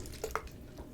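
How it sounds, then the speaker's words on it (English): A person taking a small sip of water, a couple of quiet wet slurping and swallowing sounds over about a second, close and faint, with no talk. "Just going to have a little bit of water."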